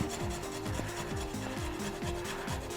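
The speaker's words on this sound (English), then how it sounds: "just using the fine side of the grater. And you want about 3 tablespoons of this fresh ginger." Fresh ginger rubbed against the fine side of a handheld grater, a steady series of quick rasping strokes in an even back-and-forth rhythm, close and alone.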